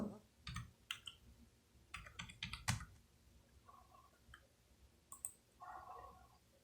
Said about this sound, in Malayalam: ഞാനിവിടെ എളുപ്പത്തിന് വേണ്ടിയിട്ട് ഹെക്സ് വാല്യൂ ടൈപ്പ് ചെയ്ത് കൊടുത്താണ് കളർ പിക്ക് ചെയ്യുന്നത്